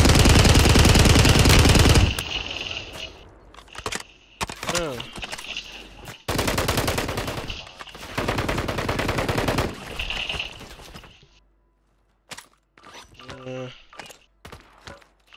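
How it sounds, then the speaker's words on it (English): Gunfire from a shooter up on a hill, bursts of loud shots in the opening seconds and again mid-clip, then scattered sharper cracks, with voices talking in between. "Somebody on the hill shooting at us."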